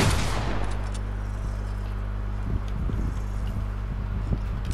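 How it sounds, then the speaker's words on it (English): A shotgun blast in Fortnite opens with a sharp, loud crack and a fading tail, followed by a steady low drone and a few softer, distant pops. "Just wanna see how much far a shotgun is"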